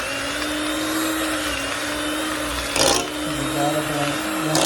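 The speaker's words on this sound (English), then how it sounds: "Now we're going to use our hand blender." A hand blender whirs steadily through potatoes being blended for mashed potatoes, a loud continuous motor drone with a brief rougher burst partway through as the pitch shifts with the load.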